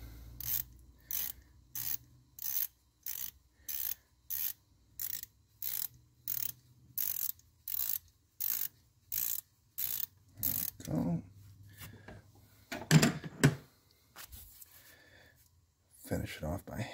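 Close-up socket-wrench ratcheting loosens the transmission shift solenoid bolt on a 2014 Dodge Grand Caravan 62TE, about a dozen regular rhythmic clicking strokes, followed by handling clatter, with someone talking briefly.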